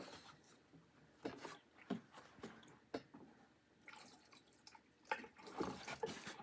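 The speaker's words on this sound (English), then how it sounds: "we'll pour some gas in here and let it run down into the carburetor" Gasoline poured into the carburetor of a Toro Personal Pace lawnmower under repair, soft irregular trickling and dripping with light rubbing sounds, close and quiet, no voices.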